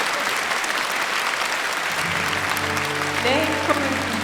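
An audience at a peace commemoration event applauds after opening remarks, a steady wash of clapping, with a voice coming in under it toward the end.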